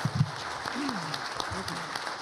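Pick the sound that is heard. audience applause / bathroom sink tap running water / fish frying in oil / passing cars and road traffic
audience applause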